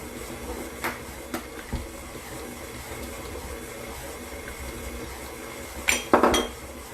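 Eggs cracked into a bowl for a chocolate syrup cake batter, heard as a few sharp, close taps and clinks against the bowl, a brief wet splash near the end, over a quiet kitchen background.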